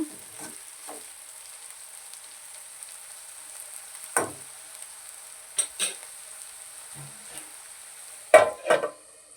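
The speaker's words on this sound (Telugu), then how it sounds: "బాగా వేగిపోయాయండి దొండకాయలు" Ivy gourd (dondakaya) pieces fry quietly in a pan, with a faint low hiss broken by a few sharp scrapes and clatters of a spatula against the pan.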